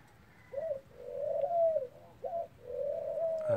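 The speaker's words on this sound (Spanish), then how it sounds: "Ahí están mis tórtolas." Eurasian collared doves coo in an aviary, two clear, close call phrases in a row, each a short note followed by a longer drawn-out coo over quiet background.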